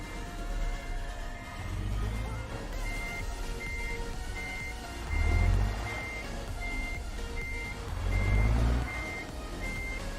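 A truck in American Truck Simulator reverses, its backup alarm beeping in a steady, evenly spaced series over a low engine rumble that swells and fades a few times.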